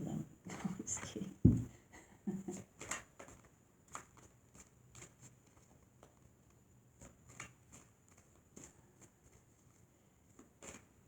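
Tarot cards being shuffled by hand, a series of soft, quick riffling taps and slaps repeated at irregular intervals, fairly close and quiet, with a few louder handling noises near the start.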